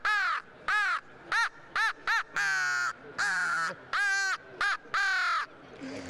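A man imitates a crow's caw with a bird call, giving a rapid series of about ten loud, harsh, strident caws, some short and some drawn out, close and clear with no talk over them.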